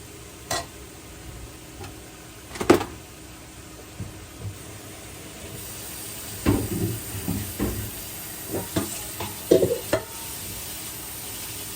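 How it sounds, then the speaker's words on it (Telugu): Ridge gourd and tomato curry fries in a pan with a low, steady sizzle. Scattered clanks and scrapes from stirring break in every second or so, louder in the second half, with no talk. "ఇది కొద్దిసేపు ఇలా వేగిద్దాం"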